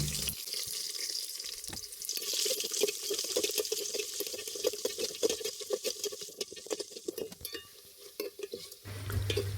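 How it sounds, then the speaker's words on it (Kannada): Onions frying in a pan for a jackfruit stir-fry, a steady close sizzle broken by frequent scraping stirs, with a brief pause near the end. "ಸೊ ಈಗ ಈರುಳ್ಳಿ ಹಾಕಿ ಫ್ರೈ ಮಾಡುವ."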